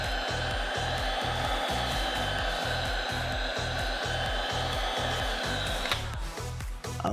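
A heat gun blows a steady, loud whoosh of hot air onto vinyl wrap on a van, with a rhythmic low thumping underneath and the airflow shifting near the end.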